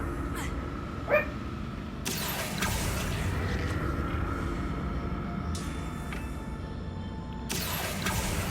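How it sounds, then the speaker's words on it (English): A pet dog named Jasmine barks indoors in short, sharp yips that rise above low steady background sound, heard a few times, fairly faint and spaced apart, with no talking. "Jasmine, stop barking."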